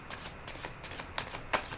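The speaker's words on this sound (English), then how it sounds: "I will try to shuffle these a little more, and then we will lay the cards." Tarot cards being shuffled by hand, a quick series of soft papery riffles and slaps at close range, with no voice over them.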